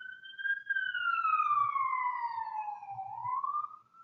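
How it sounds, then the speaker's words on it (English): An ambulance siren passes outside, its wailing tone sliding slowly down then rising again, steady and fairly loud across the whole stretch with faint low rumbles beneath. "Okay, the ambulance is gone."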